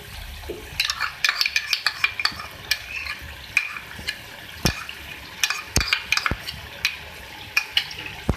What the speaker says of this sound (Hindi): अच्छे से मिक्स कर लें।